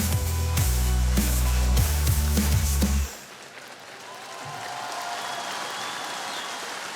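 An audience at a village-style comedy show claps loudly for about three seconds, then the applause cuts off abruptly, leaving quieter room noise.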